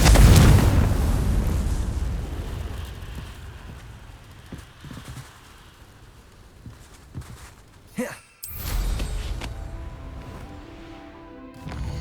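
A broadband blast opens the moment, decaying into rumbling game ambience with a second whooshing burst later, from the Confringo fire-blast spell in Hogwarts Legacy.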